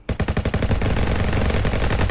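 A shotgun in a Roblox Call of Duty-style shooter fires in a rapid run of sharp, punchy blasts, loud and close, merging into a dense rattle of gunfire with no talk.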